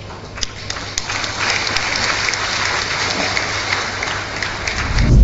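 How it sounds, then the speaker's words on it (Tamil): Applause from an audience at a statue unveiling ceremony, a steady wash of many hands clapping that holds evenly and swells slightly toward the end, heard alone without voices. "நாங்கள் பார்வையாளர்களாக இருந்து கரகோஷம் எழுப்ப வேண்டும்."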